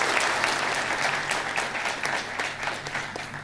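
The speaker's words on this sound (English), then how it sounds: "So we need to give her some hearty claps" Audience at a men's empowerment forum workshop opening clapping together, a dense, steady round of applause from a roomful of people that holds evenly throughout.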